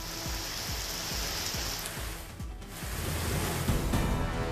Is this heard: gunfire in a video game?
no